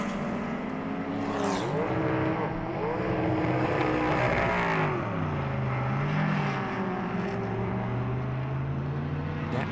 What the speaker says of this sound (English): the Alfa, quicker in a straight line, draws right back past